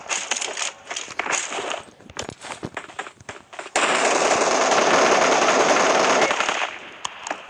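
Gunfire in a shooter video game: bursts of sharp shots with scattered footsteps, then a long loud sustained volley of rapid automatic fire before trailing off into a few isolated shots.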